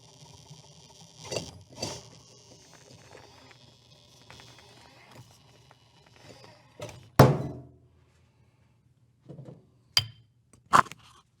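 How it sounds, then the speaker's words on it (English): A loud, sharp bang of a rock falling cuts through quiet handling noises around a TRX-4M radio-control truck being worked on, followed by a few scattered clicks and knocks. "That was one of the rocks falling"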